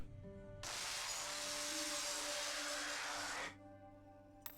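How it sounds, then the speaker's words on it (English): A double chainsaw revs in Resident Evil 4 Remake, a loud harsh whining roar that starts abruptly, holds steady for about three seconds and then cuts off, over faint background game sound. "he has a double chainsaw!"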